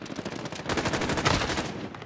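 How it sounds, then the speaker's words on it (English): A machine gun in the Modern Warfare gun game mode fires in a close, loud, rapid stream of shots for about two seconds. "Now I got a big stupid machine gun."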